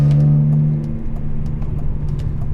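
BMW M3 with an S54 engine, exhaust holding a loud steady drone that drops away as the revs fall, followed by a rougher lower rumble with small pops, heard close up from the car.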